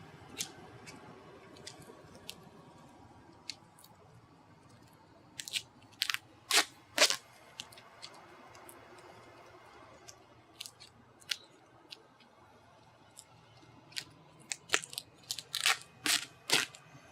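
Tape is torn and pressed onto a homemade no-heat PVC bundle bow, giving sharp crackling rips and crunches in short bursts, clustered toward the middle and end of a quiet room, with no talking.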